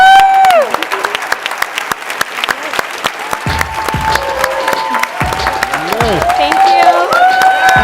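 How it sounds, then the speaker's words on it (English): Applause from a crowd at a live event at the 2019 National Adaptation Forum, a continuous clatter of claps mixed with shifting tonal sounds and voices. "let's give them a round of applause"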